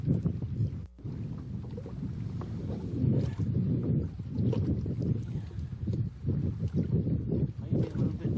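Steady, strong wind buffets the microphone outdoors on a lake, with gusty low rumbling that rises and falls throughout and no voices.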